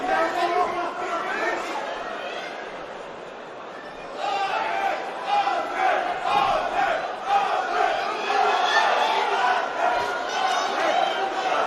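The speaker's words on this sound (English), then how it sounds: "And the Swedish contingent making themselves heard here in Manchester." Swedish fans in a Manchester fight arena crowd raise a steady roar of chatter and chanting that swells after a brief lull, a dense ongoing crowd din.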